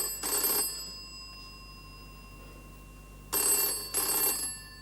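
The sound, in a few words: telephone ringing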